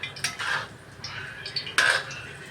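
A utensil stirs lentils into a ridge gourd thoran in a pan, giving a few separate metallic scrapes and clinks with quiet gaps between them, close and moderately loud.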